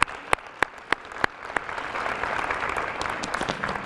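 Audience at a school district anniversary program in a high school setting breaks into a round of applause, starting with a few sharp individual claps that quickly swell into dense, sustained clapping from many hands.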